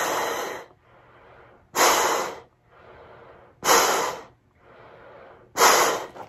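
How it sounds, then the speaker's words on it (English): Breathing through a respirator mask with filter cartridges: four loud, hissing inhalations alternate with softer exhalations in a steady, slow rhythm, close to the microphone. "every time I take an inhale, I inhale through here, these two things, and I exhale through here"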